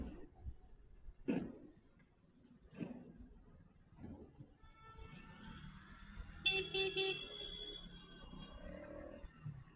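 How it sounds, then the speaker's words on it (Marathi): Road traffic jam near Ghodbunder, Maharashtra, where car horns honk in short bursts over a low rumble of idling engines. One louder, sustained horn blast comes near the end. "आणि ही इथे ट्रॅफिक लागलेली असते ना"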